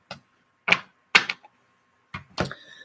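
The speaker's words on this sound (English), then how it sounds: "let me just try to shuffle these cards" Reading cards are shuffled by hand in a few short, crisp bursts of riffling and snapping, separated by pauses and heard close up.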